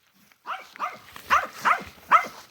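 Dogs running around and playing give a string of five or six short, rough barks and yelps, close and fairly loud, one after another with brief gaps.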